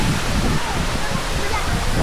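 Dampalit Falls in Los Baños, Laguna, with water plunging into a pool, a dense, steady, loud rushing roar filling the space without pause, heard up close.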